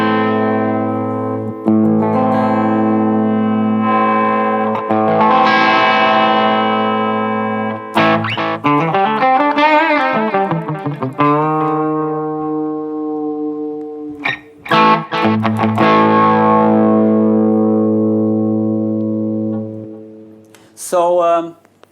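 Schecter Banshee electric guitar played through an ENGL 520 preamp with an Alesis Quadraverb GT while the treble is adjusted; loud distorted sustained chords and notes with reverb, a stretch of wavering bent pitches, then more held chords and a short final stab.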